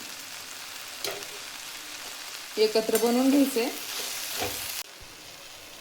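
Roasted green chillies, tomato and onion sizzle in a pan, a soft steady hiss that swells briefly midway while a person speaks over it.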